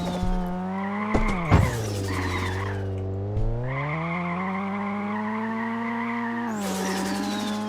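In the video game Streamer Life Simulator 2, a stuck car's engine revs and whines continuously while tires squeal and screech in bursts, with a few sharp knocks; sounds synthetic.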